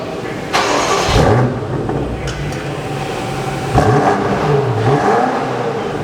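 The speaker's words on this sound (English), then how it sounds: "Hey, Mikey, give us some revs" BMW X5 M Competition on its stock exhaust, revved twice in quick blips that rise and fall over a steady idle, close and loud.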